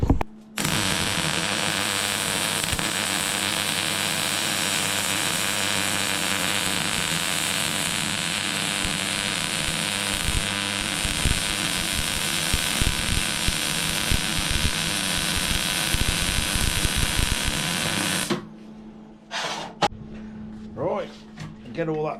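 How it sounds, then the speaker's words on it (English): Welding on a Norton bobber's battery box: a steady, loud crackling buzz fills about eighteen seconds without a break, then stops abruptly, leaving quieter shop clatter. "let's get all that welded up."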